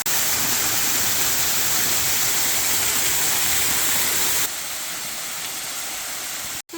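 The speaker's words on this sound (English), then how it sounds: "This is on top of the waterfall." Rushing water at the top of a waterfall in the Ingram Valley, Northumberland, pours as a loud, steady broadband roar close by, dropping somewhat in level partway through before cutting off.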